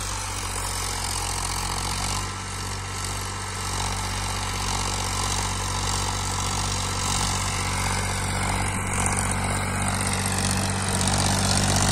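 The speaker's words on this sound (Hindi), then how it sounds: "चाल देखो ट्रैक्टर की" Steady, loud engine drone from a Powertrac 434 DS Plus 39 hp single-clutch reduction tractor driven in fourth gear, a continuous low hum with constant pitch throughout and no talk.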